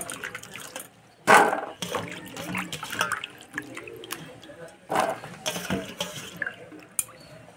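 Radish being washed in a sink or bowl of water, with repeated splashes, sloshing and drips in uneven bursts, close and moderately loud.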